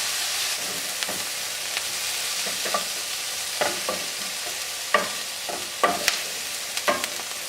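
Softened celery and onions being stirred in a hot pan for meat stuffing, a steady sizzle broken by repeated scraping and tapping strokes that grow more frequent.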